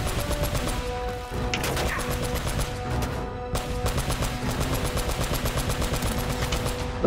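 Mounted turret machine gun in Uncharted: Drake's Fortune fires in long, rapid bursts, loud and close, with one short pause before the firing resumes.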